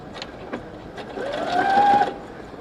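A sewing machine stitches fabric for a hair scrunchie, starting with a few soft clicks and then running in a rising whirring burst close by before slowing to a stop.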